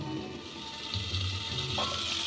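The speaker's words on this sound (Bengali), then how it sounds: "ঢাকা দিয়ে মাছটাকে ভেজে নেব।" Tangra fish fry in oil in a covered pan, giving a faint, even sizzle with light bubbling crackles, quiet and steady with no talking.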